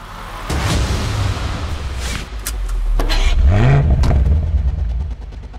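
A BMW M5 accelerating hard on the Moscow Raceway track, its engine roaring loud and close with rising revs, a brief dip between gear changes, then climbing again before cutting off.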